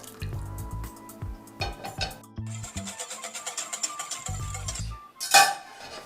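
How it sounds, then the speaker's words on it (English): Scalded cream mixture poured into hot caramel for butterscotch pots de crème, with soft bubbling, dripping and liquid sounds plus light clinks of pans and utensils, close and fairly quiet. "we're going to pour in the scalded cream mixture"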